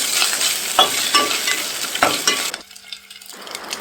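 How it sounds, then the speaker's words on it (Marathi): Crushed ginger sautéing in a hot pan, a close, steady sizzle with repeated scraping stir strokes, briefly dropping quieter before the frying hiss returns. "ये डाल रही हूँ मैं फूटा हुआ अदरक और फिर से अच्छी तरीके से सौते करके ले रही हूँ।"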